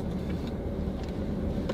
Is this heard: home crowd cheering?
no